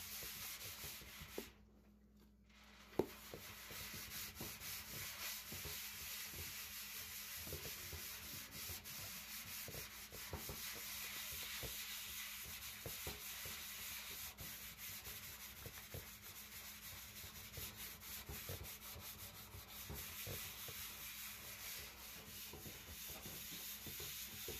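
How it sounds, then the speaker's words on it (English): A vintage brass item being scrubbed clean, a soft, continuous rubbing and scratching texture repeating steadily at close range and low volume, with a brief pause and a small knock early on. "Now, as you can see, I'm not scrubbing very hard."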